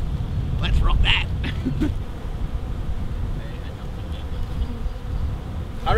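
A wild bee swarm in the Australian bush hums as a steady, dense buzz up close, with individual bees flying past the microphone and a person talking quietly over it.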